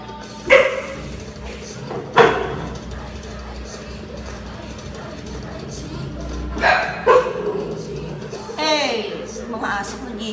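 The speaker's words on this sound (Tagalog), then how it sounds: "Mga aso ko nag-iingay." Several dogs bark in short, sharp bursts spread across the scene, at moderate distance, over a steady room hum with occasional voices in the background.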